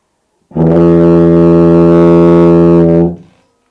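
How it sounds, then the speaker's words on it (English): A tuba sounds one long, steady low note with a full, rich tone, held for about two and a half seconds before stopping cleanly. "I'll try it on my tuba, and usually tuba makes a huge difference tone-wise."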